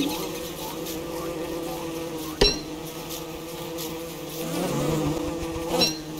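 Killer bees buzzing in the video game Don't Starve, a steady low drone under game music, with a sharp click and a swell of sound toward the end.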